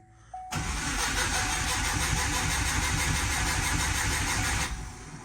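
WRX-swapped Subaru Impreza engine cranking over on the starter during a compression test with the fuel on, a loud, close, rapid rhythmic churning that runs steadily for several seconds before stopping.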